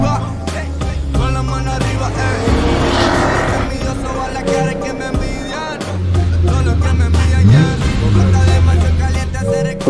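Revving car engine in the video game Cyberpunk 2077 on PlayStation, rising and falling pitch, shifting gears over a busy, loud mix of other sounds.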